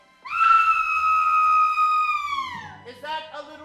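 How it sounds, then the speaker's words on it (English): A woman's long, loud, sustained scream as a radio drama sound effect, holding a high pitch for about two seconds before sliding down and breaking into a shorter cry. "Is that the scream of a woman in trouble?"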